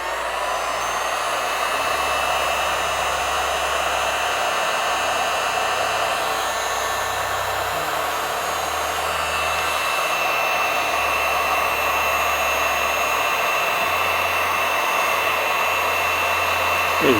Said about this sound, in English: it's kind of like a hair dryer, so it is gonna make noise